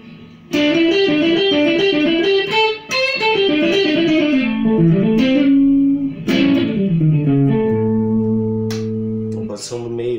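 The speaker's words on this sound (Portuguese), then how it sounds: "Junto com ele tem um reverb Spring 63, que é o reverb que eu mais uso, que eu mais curto, dá esse som mais de guitarra mais velha" Electric guitar played through a Zoom G1on multi-effects pedal with the Spring 63 spring reverb, loud sustained notes and bends in a blues phrase, each note trailing off in a reverb wash, ending on a long held chord.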